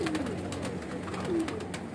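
A pigeon from a breeder's loft coos close by in low, rolling phrases over a steady murmur of background noise, with no voices present.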